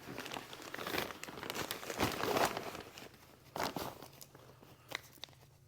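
A clear plastic zipper-top bag holding seat covers gets handled and opened, with close crinkling and rustling that rises to a louder burst of crackle and then settles into scattered softer crinkles.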